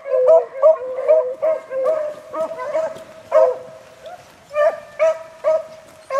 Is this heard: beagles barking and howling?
yes